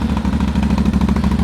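A 2024 CFMoto CForce 1000 Touring ATV engine idles steadily after starting, a deep, throaty, fairly loud pulsing rumble close by with no talk over it.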